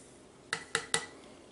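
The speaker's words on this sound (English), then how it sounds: "So you just add that in slowly and stir it" A utensil clinks three times against a container while lye is stirred into water for laundry soap. The taps are crisp and evenly spaced, with quiet room tone between them.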